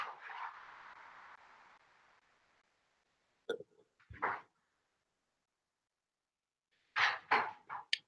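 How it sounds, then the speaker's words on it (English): A dog in its pen makes faint noises in the background of a quiet room. A few brief, scattered bursts of rattling and small yips come after a fading hum. "if you hear any rattling as well behind me in the background, that's actually my dog."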